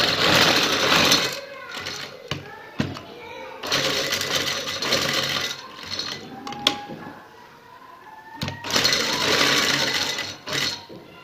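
A sewing machine stitches along fabric with a paper strip on a shalwar cuff, whirring in several long runs broken by brief stops, close by, while someone talks through and between the runs.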